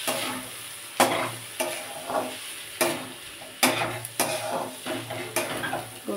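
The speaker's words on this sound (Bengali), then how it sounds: "চালটাকে আমি একটু কষিয়ে নেব মশলার সাথে" Gobindobhog rice being stir-fried with spices in a pan, spatula scraping and stirring in repeated strokes roughly every half second over a steady close sizzle.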